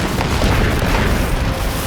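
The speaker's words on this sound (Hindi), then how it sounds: "ब्रिटिश सिपाहियों ने तोपों से दीवार पर अटैक किया" Cartoon cannon fire from British soldiers pounding a fort wall, a dense continuous rumble of booms and blasts filling the short stretch without pause.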